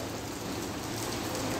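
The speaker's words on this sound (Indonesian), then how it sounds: "Ini hujan dari tadi" Heavy rain pours down steadily at Masjidil Haram, a dense continuous hiss of drops striking the ground, loud and unbroken with no voices.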